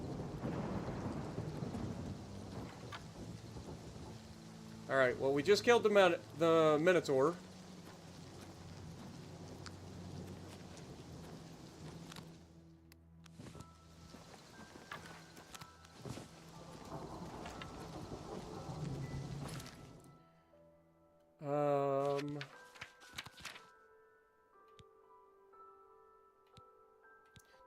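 A thunderstorm in the Elder Scrolls IV: Oblivion Remastered game, with soft steady rain and low rumbling thunder under game sounds. Someone talks briefly over it.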